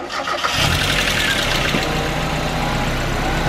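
A Mazda Miata engine fires up and settles into a steady idle after new belts and a coolant refill, running loud and close with an even, continuous hum and no voices over it.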